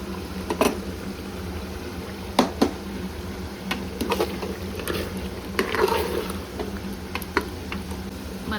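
Ground masala is added to mutton curry simmering in oil in a Gowda-style red mutton sambar, making soft bubbling and stirring with scattered knocks and scrapes of a spoon against the pot.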